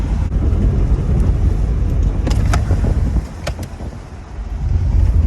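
A Honda golf cart drives with a steady low engine and rolling rumble, broadband wind buffeting the microphone throughout, and a few faint clicks and knocks over the noise.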